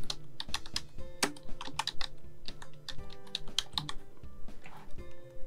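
Quick typing on a computer keyboard enters a short text prompt into Photoshop, a close run of crisp key clicks in uneven bursts with soft background music underneath.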